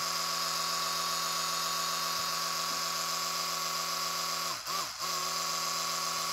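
An Oral-B electric toothbrush hums steadily and loudly throughout, a constant buzzing whine with a brief dip and wobble near the end, with no voices.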